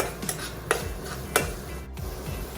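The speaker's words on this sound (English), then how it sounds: "We'll saute the garlic till it becomes little pink." Chopped garlic sautéing in oil for vegetable momo filling, with a soft sizzle and a few sharp spatula scrapes and taps against the pan over about two and a half seconds.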